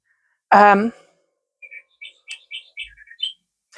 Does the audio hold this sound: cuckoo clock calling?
yes